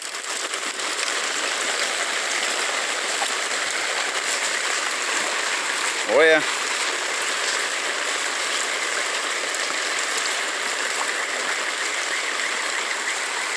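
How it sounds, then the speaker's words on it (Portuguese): Heavy rain runoff floods a street in Jequié, rushing like a river with a steady, loud broadband wash of water throughout; a brief voice cuts in once midway. "Meia horinha de chuva, a rua já tá parecendo um rio."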